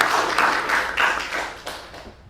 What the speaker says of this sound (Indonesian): Kasih aplaus buat temannya juga.